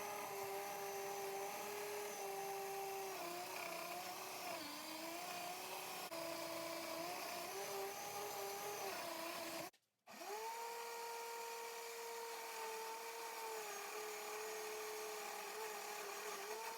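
A power tool sanding down a roughly half-inch-thick lumber board gives a steady, droning motor whine with slight pitch dips under load, briefly cutting out near the middle before starting again, with no speech.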